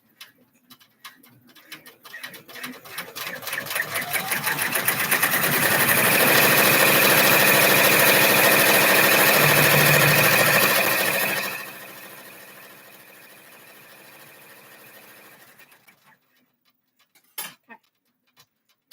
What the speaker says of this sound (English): it comes up here and it does some placement stitching for the next hooping.